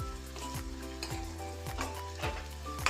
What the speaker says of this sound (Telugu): ఆనియన్స్ బ్రౌన్ కలర్ వచ్చేంత వరకు ఈ విధంగా వేపాలండి